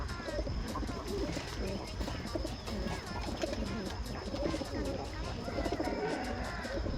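Soft repeated cooing of pigeons at a home sale of mixed breeds, a continuous low burbling with occasional chirps over steady background noise.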